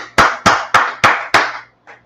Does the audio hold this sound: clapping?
yes